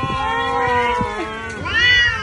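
A cat meows loudly and close while being given rice, two drawn-out, wavering meows, the second rising higher, with no talk.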